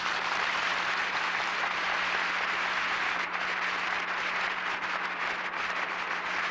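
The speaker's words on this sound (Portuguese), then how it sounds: "a vocês uma grande salva de palmas" Sustained applause from a church congregation at a priestly ordination, a dense, steady wash of many hands clapping that holds evenly throughout with no voices standing out.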